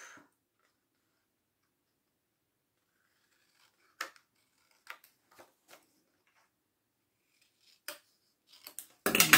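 Scissors make a few short, crisp snips through card stock for a handmade scrapbooking card and pocket, isolated cuts close by in an otherwise quiet room, with a louder rustle at the end.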